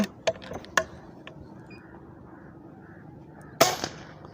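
Shots from a Seneca Aspen or Nova Freedom PCP air rifle: a few sharp pops early on, then a quiet stretch before one louder crack near the end.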